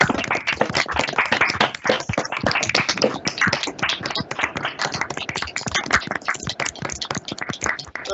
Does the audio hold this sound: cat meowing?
no